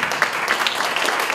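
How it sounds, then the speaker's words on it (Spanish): Audience applause at a youth festival concert in Valtierra, a brief burst of scattered clapping from a crowd, fairly close and without talk. "un aplauso para Tierra Televisión, por favor"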